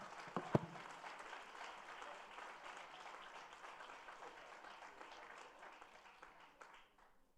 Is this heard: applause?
yes